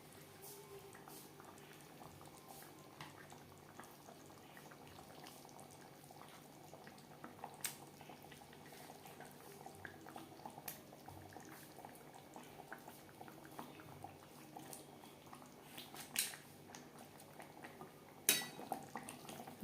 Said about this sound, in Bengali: তিন 4 মিনিট গ্রেভি বেশ ভালো করে ফুটিয়ে নেব।